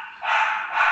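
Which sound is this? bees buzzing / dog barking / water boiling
dog barking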